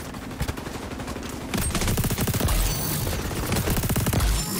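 SMG gunfire in the shooter game XDefiant, rapid automatic bursts in a dense rattling rhythm, loud and close, continuing almost without pause throughout.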